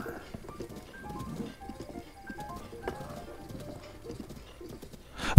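Horses clopping with hooves in an uneven rhythm alongside faint whinnies, quiet and close, with a sharp louder burst at the very end.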